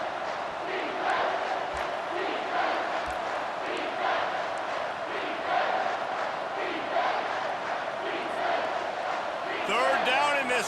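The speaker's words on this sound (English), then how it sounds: "this crowd is tearing the lid off this place" A stadium crowd roars steadily throughout a game of EA Sports College Football 25, a dense sustained wall of cheering and chanting with a louder swell at the very end.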